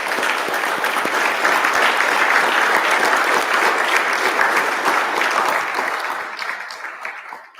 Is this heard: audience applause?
yes